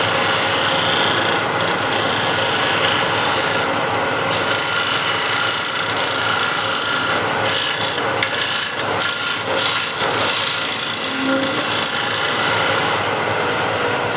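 A freshly honed scraper drawn across a wooden hexagon plate, giving a run of rough rasping strokes, close and fairly loud, with short breaks between passes.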